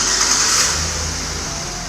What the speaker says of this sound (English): we're gonna rev the engine a little bit